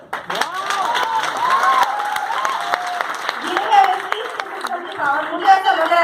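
An audience at a Vestige business seminar claps in a lively burst of applause, many hands together in a dense, crackling patter close by, with a voice speaking through it.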